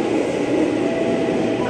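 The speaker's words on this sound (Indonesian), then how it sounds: "ini dia masuk komuter tujuan Bekasi" A KRL commuter train bound for Bekasi pulls into Sudirman station in central Jakarta, giving a steady, loud, close rumble of wheels and motors that holds evenly throughout.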